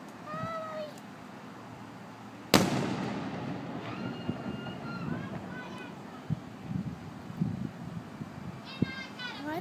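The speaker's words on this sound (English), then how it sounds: "Why are they shooting out fireworks?" A sharp firework blast bursts out, followed by crackling and distant pops, with children's voices and chatter continuing throughout, on July 7th.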